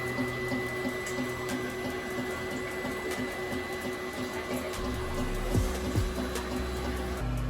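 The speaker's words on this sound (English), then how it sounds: "3D printer over there" A 3D printer runs with a steady mechanical hum, a faint rhythmic whirr and periodic clicking nearby, with a low rumble building toward the end.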